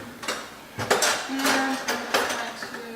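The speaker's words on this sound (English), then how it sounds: "And all we have to do then is put it on the stove and bring it to a boil." Metal pot set down on a kitchen stove, giving several sharp clanks and scrapes with a brief ringing tone, close and fairly loud, with no talking.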